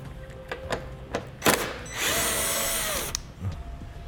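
A power tool spins on a 10mm bolt under a 2015 Chevrolet, giving short bursts and then a sustained whirring run of about a second, close by, with clicks and handling noises around it.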